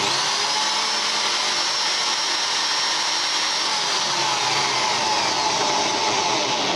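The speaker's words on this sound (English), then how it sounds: "I've got the big drill up here, on here, and it's got a lock." A steady, high-pitched motor whine runs without a break, like a power drill held at full speed, loud and close throughout.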